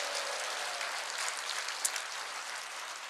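A church congregation applauds in praise, a soft, even patter of many hands clapping throughout, fairly distant and without speech.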